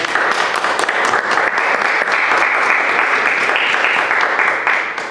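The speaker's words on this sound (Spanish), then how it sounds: "Un fuerte aplauso." Loud, sustained applause from a forum audience greeting a speaker, thick crowd clapping that holds steady throughout and tapers slightly at the close.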